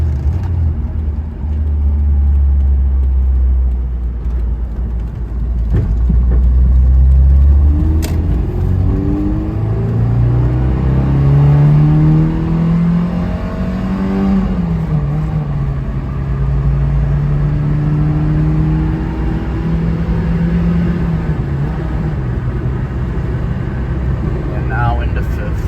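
A 1991 Alfa Romeo Spider pulls away and accelerates toward highway speed, its engine note climbing through the gears with loud, close rumble and rising wind noise.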